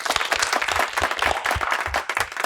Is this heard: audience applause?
yes